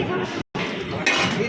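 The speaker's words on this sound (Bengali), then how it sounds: "দেখুন থালা ধোয়াধুয়ি চলছে" Metal plates clink and clatter as people wash them at the Bharat Sevashram ashram in Varanasi: dense, overlapping metallic knocks under busy crowd chatter, with one brief silent gap before the clanking and voices resume, slightly louder.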